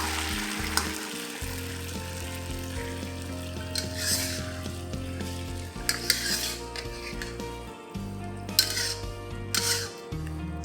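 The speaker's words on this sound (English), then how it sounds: "Gently mix and coat the tofu with the sauce." Tofu frying in chili bean sauce, gently mixed in a pan: a continuous close sizzle with intermittent bursts of scraping and clattering from a utensil turning the pieces, no voices present.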